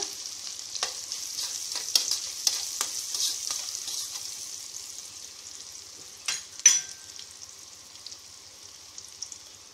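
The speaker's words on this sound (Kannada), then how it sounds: "ಕಟ್ ಮಾಡಿಟ್ಕೊಂಡಿರೋ ಹಸಿ ಶುಂಠಿನ ಹಾಕ್ತಾ ಇದ್ದೀನಿ ಸ್ವಲ್ಪ ಮಿಕ್ಸ್ ಮಾಡ್ಕೊಂಡ್ಬಿಟ್ಟು" Chopped raw ginger frying in a tempering for pongal, a thin bright sizzle broken by repeated scraping stirs of a spoon against the pan, close and clear with a louder clatter near the end and no talking.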